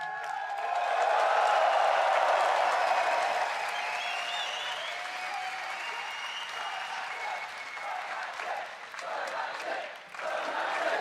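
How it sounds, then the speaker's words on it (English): Big arena crowd cheering and applauding after a League of Legends World Championship 2015 quarterfinal game, a dense roar that swells early, then holds steady and slowly thins with scattered claps. "The cheering will go on and on."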